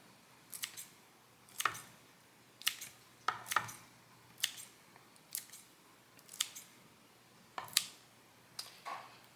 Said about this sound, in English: I can just take the